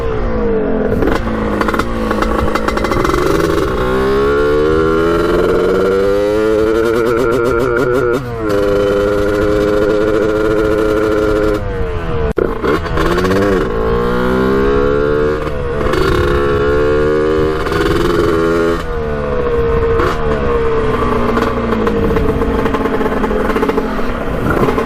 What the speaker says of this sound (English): you could hear it just breaking up on the top end